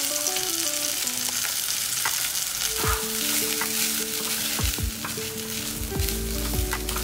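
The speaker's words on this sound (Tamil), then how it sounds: "பண்ணி இந்த அளவுக்கு வதங்கினா போதும், ரொம்ப நேரம் வதங்கணும்னு அவசியம் இல்லை." Shallots, garlic, curry leaves and grated coconut sauté in hot oil, giving a steady close sizzle and crackle with occasional sharp pops and clinks of a spoon stirring in the pan.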